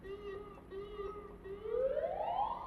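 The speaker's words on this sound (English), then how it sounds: "You guys hear that ambulance?" A distant ambulance siren wails steadily, its pitch gradually rising as it draws nearer over a low background hum.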